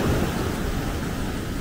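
Heavy surf from Hurricane Ian washes over sandals on a beach, a low, churning wash of water with wind buffeting the microphone, steady and fairly faint.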